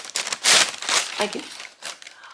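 Paper rustles and crinkles as a Christmas gift is unwrapped, in a few loud crackling bursts close by, with a voice speaking between them.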